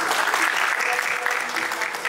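A conference audience at a startup demo day claps steadily through a short round of applause, dense and even from start to finish.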